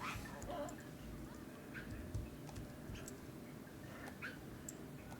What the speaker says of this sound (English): can you hear all the like barking noises? That's so weird. I did not know that they made that sound.